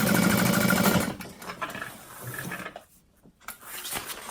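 A sewing machine runs in a steady, fast stitching burst while sewing a handbag seam, then stops, leaving quieter handling noises and brief shuffles.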